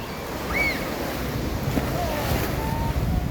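Sea waves and strong wind at Laem Charoen beach in Rayong, a continuous roaring wash of surf with heavy wind buffeting the microphone, loud and unbroken, with faint high calls in the background.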